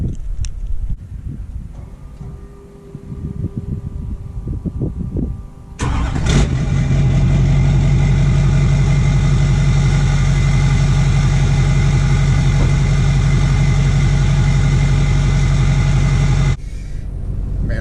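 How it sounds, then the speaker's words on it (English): A 1999 GMC Yukon truck with an LS engine swap starts up, then settles into a loud, steady idle while warming up. The rumble sits close and continuous, with a low exhaust drone, until it cuts back near the end. "letting the truck warm up a little bit"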